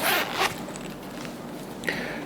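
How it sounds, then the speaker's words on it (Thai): A new wallet's zipper is pulled in a quick rasping swipe, close and fairly loud, followed by softer rustles and a second short zip. "ให้รูดซิป"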